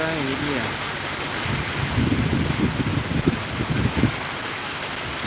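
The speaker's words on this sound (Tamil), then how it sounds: "மழை பயங்கர மழை எங்கள் ஊரில்" Heavy rain pours steadily in a village, a dense constant hiss with a brief low rumble and some heavier splashing patter midway, the sound close and enveloping.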